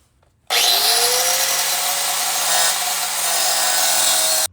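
Power saw or cutting tool biting steadily through aluminum sheet for a motorcycle license plate mount, a loud continuous grinding whine with a rising pitch at the start, running unbroken for about four seconds before stopping abruptly.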